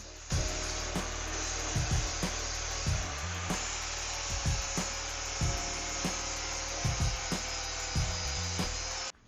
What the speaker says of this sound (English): afterwards here I am grinding them down, getting ready to weld